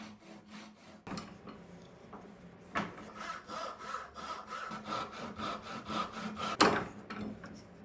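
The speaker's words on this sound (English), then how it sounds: "I'm making a light cut along the back side to help guide the saw perfectly straight down the material" A hand saw rasps steadily through walnut wood in quick, regular strokes, close and fairly loud, with a sharper knock partway through.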